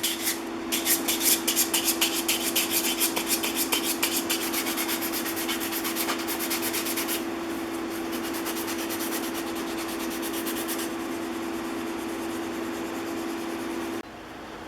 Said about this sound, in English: Sanding block and sanding sponge are first, always sanding with the grain.